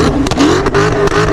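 A 640HP BMW M550i pulls hard at night, its exhaust roaring loudly with rising revs and brief gear-shift dips, close and continuous with no talking.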